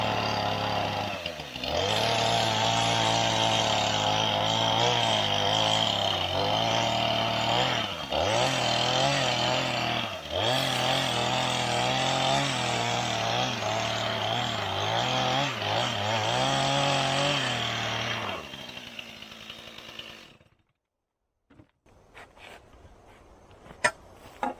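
A chainsaw runs loud and close for about twenty seconds, its engine surging and dipping as it cuts, then it cuts off, leaving a few faint knocks and handling sounds.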